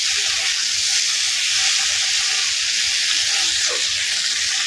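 Brinjal and potato sizzle in hot oil, a steady dense frying hiss with faint stirring clicks running continuously throughout, close and fairly loud with no voices.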